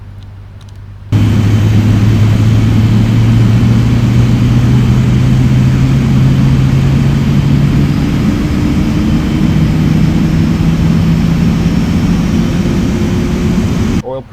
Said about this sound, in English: Oh man, I love the sound of the 777 starting.